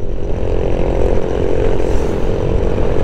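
Tricycle exhaust on a narrow but good road in Tanay, Rizal: a loud, steady engine drone that runs without a break for the whole stretch, with no talking over it.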